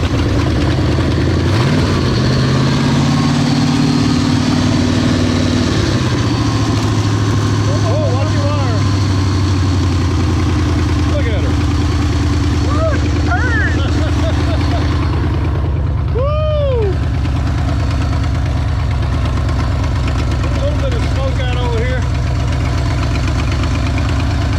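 A 1961 Willys Jeep engine, running for the first time in 30 years, idles loudly and steadily up close with a low rough rumble throughout, while people talk over it.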